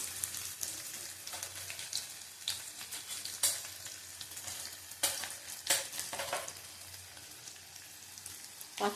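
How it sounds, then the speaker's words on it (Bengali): Four bay leaves and whole spices frying in oil in a pan, a soft crackling sizzle with scattered spatula scrapes and taps, fairly quiet and close. "দেখো, মশলা কষিয়ে নেব।"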